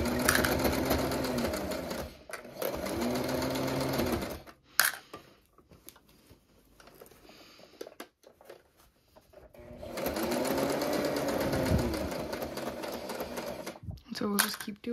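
A sewing machine stitches a cross-body bum bag in two long runs of rapid, whirring stitching, with quieter stretches between them. A person talks over and between the runs.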